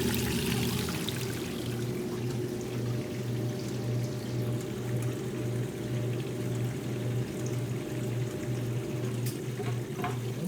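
Washing machine pumping out water ahead of its spin cycle, a steady rushing flow over a low, constant pump hum, continuous and fairly close throughout.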